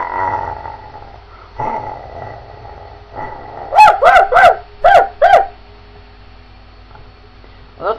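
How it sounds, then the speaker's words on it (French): A dog barks in a quick burst of five or six sharp, close barks in the middle, with softer growly sounds earlier, over a low steady hum. "C'est le chien."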